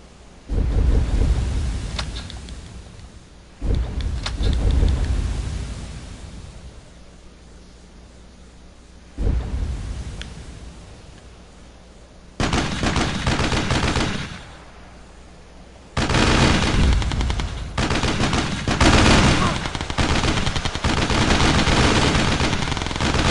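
Heavy mortar fire in a video game strategy battle, booming in loud repeated bursts that come and go in long rumbling stretches with no talk over them.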